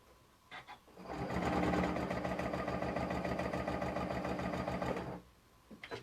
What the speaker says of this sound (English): Now I'm going to place it under my machine, lower my foot, and then sew